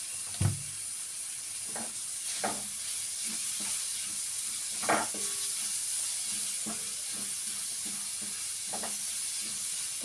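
Chili and tomato sizzle steadily in hot oil in a pan while being stirred, a constant close frying hiss broken by several scraping spoon strokes, with no voices.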